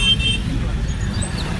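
Road traffic from inside a car stuck in a jam, a low rumbling engine and road drone with faint short horn toots, while people talk close by.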